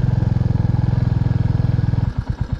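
Motorcycle engine idling close by with a steady rapid thumping pulse, then a few slower, uneven throbs near the end as it winds down.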